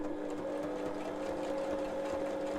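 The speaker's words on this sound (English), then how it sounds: "So I'm going to start it off. So I'm just going to start sewing." A sewing machine stitches a paper pocket held with glue, giving a steady, fairly quiet mechanical whirr with a continuous hum throughout.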